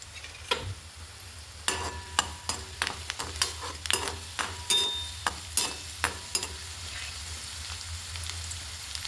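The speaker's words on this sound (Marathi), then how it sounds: "त्यासाठी आपण टाकलं थोडंसं तेल कढईत, आणि त्यात टाकलं आपण लसूण, आणि थोडंसं आता आलं टाकूया" Garlic and ginger fry in oil in a wok, with a soft sizzle broken by a string of sharp scraping stirs and clinks, close and fairly quiet, with no talk.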